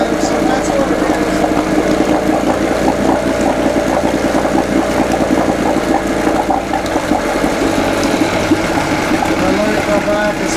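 A 1991 Johnson 3HP Seahorse outboard engine runs steadily at held throttle despite a faulty throttle cable, a loud, continuous buzzing drone with a fast uneven pulse that stays close and unbroken throughout.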